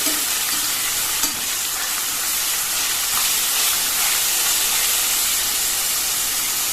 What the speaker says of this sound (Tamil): 1 பெரிய வெங்காயம் கட் பண்ணியிருக்கேன். அதையும் சேர்த்து மீடியம் சைஸில் வதக்கிக்கலாம்.